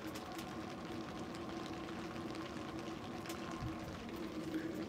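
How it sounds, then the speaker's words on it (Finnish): A Chinese diesel heater roars as a steady, low broadband whoosh, continuous and faint, while rain falls outside. "Ja sitten tuo diesel lämmitinkin kohisee aika kovaa tällä hetkellä"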